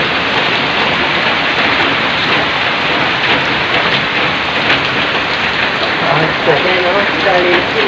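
Heavy tropical rain pours down in a dense, continuous hiss that stays loud and steady, with faint voices surfacing briefly near the end.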